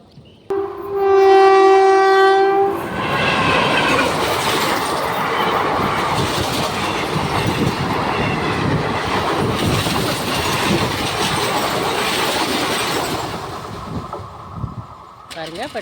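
At a level crossing, a train sounds a loud, sustained horn blast, then thunders past close by with heavy rumbling and clattering wheels that fade slightly toward the end.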